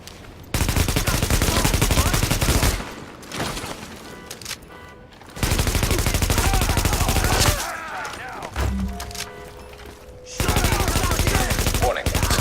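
Heavy automatic gunfire from hostiles in the video game The Division rattles in several loud, sustained bursts separated by short lulls, with brief game radio voice warnings between volleys.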